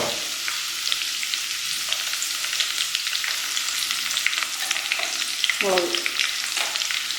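Ginger and curry leaves sizzling and crackling in hot oil in a frying pan for fish curry, a steady close hiss with occasional stirring scrapes.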